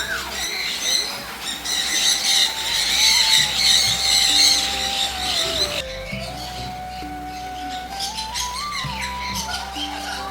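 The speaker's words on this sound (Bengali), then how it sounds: "কত ধরনের পাখি রয়েছে এখানে, ওদের কিচিরমিচির ভাষা শুনে আমার ভাষা হারিয়ে যাচ্ছে।" Many birds chattering and squawking inside a large walk-in aviary at the Ooty Bird Kingdom, a dense, loud, continuous mix of shrill calls and whistles close by, with a brief cut midway.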